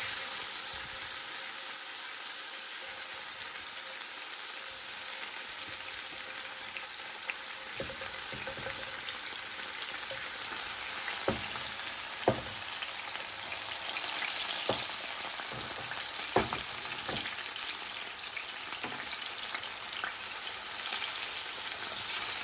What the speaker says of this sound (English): Okay, now the ginger has been cooking in there for a bit. I'm gonna lay down the tomatoes.